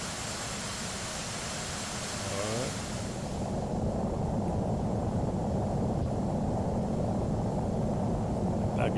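Airliner cabin noise in a flight simulator, with a steady broadband roar like rushing air that grows slightly louder partway through, continuous and without speech.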